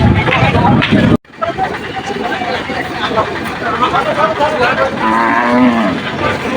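Cattle mooing at a busy cattle market, long low calls rising over crowd chatter and nearby voices.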